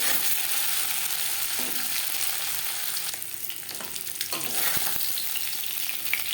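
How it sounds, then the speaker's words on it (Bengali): Live shing fish fry lightly in hot oil in a pan, giving a steady dense sizzle throughout with brief stirring or spatula clicks midway, close and loud with no talk. "জ্যান্ত মাছ আমি হালকা করে ভেজে নিলাম"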